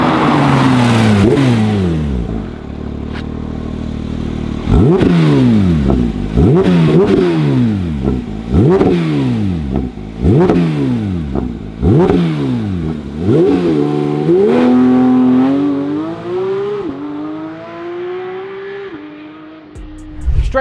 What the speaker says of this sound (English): Straight from factory, the Porsche GT3 is a track-ready machine, especially this example with the Club Sport package.